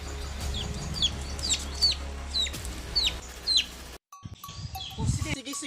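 Chickens cluck and chirp in short, rising calls at moderate distance while people talk nearby, ending with an abrupt cut into quieter voices.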